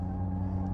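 An Alfa Romeo 75 engine on a racetrack gives a brief, steady low rumbling drone, close and unbroken, with no voices over it.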